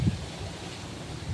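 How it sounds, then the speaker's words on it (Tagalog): Steady wind blowing through an urban garden plot during the southwest monsoon season, a soft continuous rushing with a brief low gust at the start and near the end, no voices. "mahangin lang."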